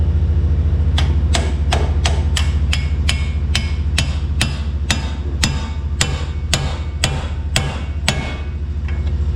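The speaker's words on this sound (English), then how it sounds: "Take your hammer, beat it in." Steady metal hammer strikes, about a dozen in an even rhythm, ring loud and close over a constant low engine-like hum while a suspension part on a Chevy Silverado is hammered into place.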